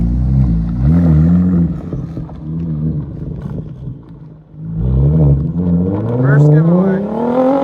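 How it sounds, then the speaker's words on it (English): An Audi B5 S4 revs and pulls away, its engine rising in pitch as it accelerates, loud and near, with voices talking over it. "Alright guys, giveaway car is rolling out."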